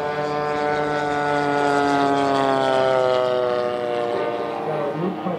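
Vintage B-17 bomber at a 2011 airshow, its piston engines and propellers droning loudly overhead in a steady, rising and falling throb as it makes a low pass for a gear check.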